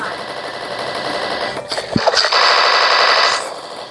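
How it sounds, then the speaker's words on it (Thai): Rapid automatic gunfire rattles in a video game as a target riding a balloon is shot down, a dense burst of loud shots over a continuous game background hum. "ไอตัวที่มันอยู่บนบอลลูนเนี่ย ยิงสอยมาลงมานะครับ"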